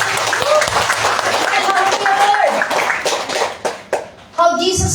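A church congregation claps and cheers during a worship service, dense applause filling the room with voices calling out over it, thinning briefly before a voice rises near the end.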